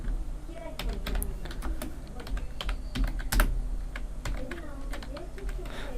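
Typing a title on a computer keyboard while building a WordPress page, brisk irregular key clicks close up, heard alongside a voice talking throughout.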